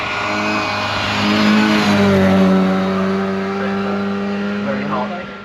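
A Lotus Cortina Mk1 racing car launches up the Shelsley Walsh hillclimb course, its engine droning loud and steady with rising revs and a faint tire squeal before it fades slightly at the end.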